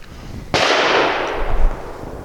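A single loud, sharp gunshot from a Canik TP9 Elite SC pistol firing 115 grain steel-cased ammunition, cracking close by and followed by a long rumbling outdoor echo.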